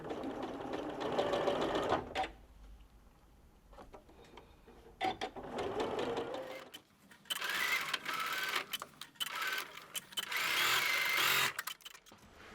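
Sewing machine running a quarter-inch seam on a gift box quilt block, heard in loud, steady bursts of rapid stitching with short pauses between runs.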